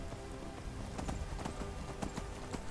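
Horse hooves clip-clopping at a steady walking pace in the Skyrim video game, a soft repeated rhythm under a dense bed of game ambience, with no speech.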